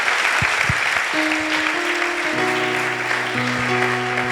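A church congregation applauds and cheers for Jesus, with loud, sustained clapping throughout and held keyboard notes playing beneath it.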